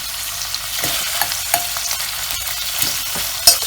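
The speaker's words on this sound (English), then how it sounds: "allow it to fry a bit." Mackerel filling for a Ghanaian meat pie fries in a pan, a loud, close, continuous sizzle broken by a few sharp stirring scrapes, with no one talking.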